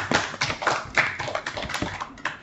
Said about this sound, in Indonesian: Marilah kita berikan tepuk tangan untuk Ketua OSIS dan Wakil Ketua OSIS yang baru kita.